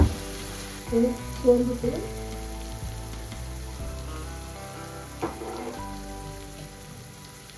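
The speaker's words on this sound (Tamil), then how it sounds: "வெங்காயத்தை நல்லா பொரிஞ்சதுன்னா வதக்கிக்கணும்" Onions and fennel sauté in hot oil for a gut curry, a continuous crackling sizzle under a faint music bed, with a brief spoken word near the start.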